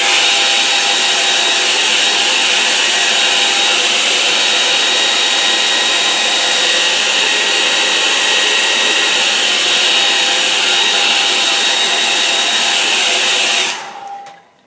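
Hair dryer blowing steadily on a wet-in-wet watercolour painting, a loud continuous whirring roar held close for over thirteen seconds before switching off and winding down at the end.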